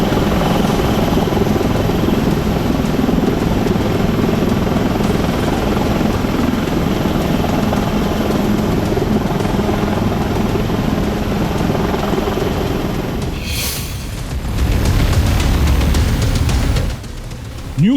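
Army helicopters airlifting people during the Wayanad landslide rescue in Kerala, a loud continuous rotor thrum and engine roar close by that dips briefly then swells again.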